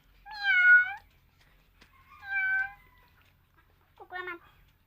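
A person imitates a cat's meow three times, drawn-out voiced mews with short pauses between, close and clear against a quiet background.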